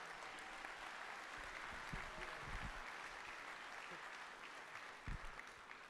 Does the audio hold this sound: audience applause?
yes